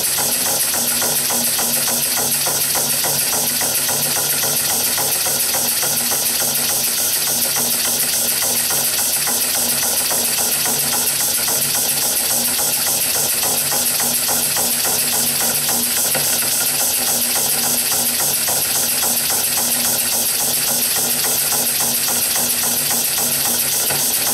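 A small model steam engine runs steadily on compressed air, with a continuous loud hiss of escaping air over a fast, even mechanical chuffing rhythm.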